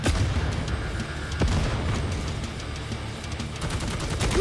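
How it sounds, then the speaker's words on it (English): Dense bursts of gunfire and booming explosions from the video game Necromunda: Hired Gun on PS5 fill the whole stretch, loud and continuous, with a sharp crack standing out partway through. "Explosions."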